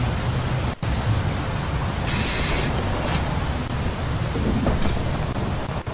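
Steady hiss of heavy rain in the video game Bus Simulator 18, with a low rumble like distant thunder beneath it and a brief higher splash partway through.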